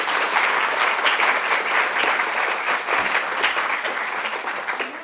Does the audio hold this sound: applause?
yes